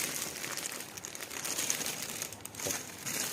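Shock-protection packaging crinkling continuously while an infrared stove panel is unboxed, with dense, close rustling that never pauses for the whole stretch.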